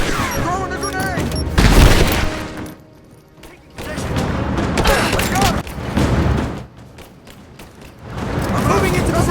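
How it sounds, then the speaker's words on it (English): A grenade explosion in Rise of the Tomb Raider, with heavy booms and crashing blasts followed by gunfire and rumbling impacts, loud and repeated over nine seconds, with spoken voices over the action. "Throwing a grenade!"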